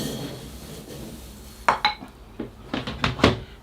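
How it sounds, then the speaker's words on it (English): Gritty bonsai soil is scooped into a pot during a trident maple repot, making a few sharp, clinking scrapes and rattles that grow busier toward the end over a quiet background. "another scoop of soil"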